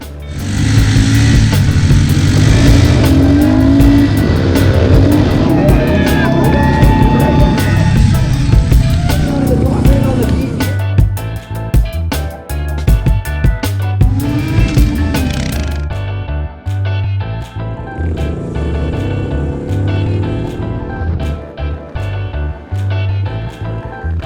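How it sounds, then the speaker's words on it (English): Stunt motorcycles at a bike show in Vancouver rev loudly and continuously nearby, engines rising and falling through repeated throttle blips, with crowd and show noise mixed underneath. "So these guys are gonna put on a show."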